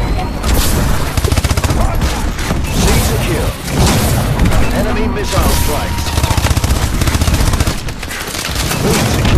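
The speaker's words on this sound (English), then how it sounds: "Missile strikes." Missile strikes rain down in a Call of Duty Advanced Warfare Domination match, a loud, dense barrage of booming blasts and rattling gunfire that runs without letup.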